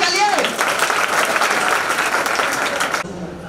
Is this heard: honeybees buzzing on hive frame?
no